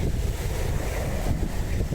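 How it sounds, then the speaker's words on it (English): Strong outdoor wind buffets the microphone in a dense, continuous low roar with gusty fluctuations throughout, loud and alone with no voices. "It's quite windy today"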